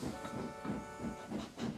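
Steam engine chuffing along with rhythmic hissing puffs, a regular beat of about five soft bursts, faint and with no voices.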